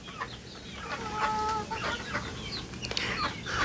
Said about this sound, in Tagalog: So gutom na yung mga manok natin.